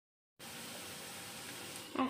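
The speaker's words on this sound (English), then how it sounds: "Fry the onions until it turns to golden brown in color." After a moment of silence, a steady hiss of onions frying in a pan starts abruptly and continues, with a voice beginning just at the end.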